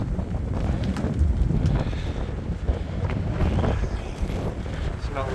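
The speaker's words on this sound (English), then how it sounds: "Oh, back into a headwind." Headwind roaring over the microphone while cycling, a loud continuous low rumble with gusty surges that rise and fall, filling the whole stretch with no break.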